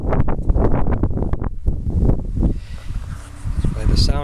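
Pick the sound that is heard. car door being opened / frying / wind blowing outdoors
wind blowing outdoors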